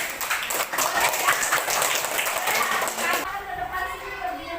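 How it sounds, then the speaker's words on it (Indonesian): A classroom of students claps in a short burst of scattered applause for a classmate, with a voice over it, ending abruptly around three seconds into quieter room noise. "tepuk tangan buat Siti."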